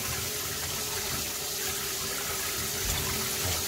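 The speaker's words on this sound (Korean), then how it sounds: "찬물에 한번 헹궈주고요." Bean sprouts rinsed in a bowl under cold running tap water while preparing Korean bean sprout soup in a home kitchen, giving a steady, close splashing and gushing stream throughout.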